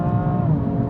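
An Alfa Romeo Giulia QV launches hard under launch control, the engine a loud, close, steady roar through a short burst of acceleration.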